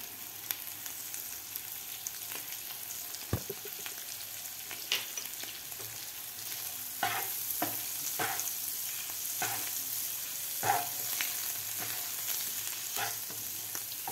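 Potato pieces sauté in ghee for sabudana khichdi, giving a steady close sizzle and frying hiss, with scattered scraping stirs of a spoon in the pan throughout.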